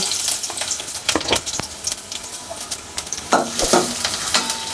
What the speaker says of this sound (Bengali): এখন আমি এর মধ্যে দিয়ে দিব পেঁয়াজ কুচি।